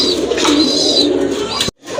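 Pigeons kept as fancy breeds in a loft coo nearby in soft, repeated low calls. The cooing stops abruptly into a brief silence before faint sound returns.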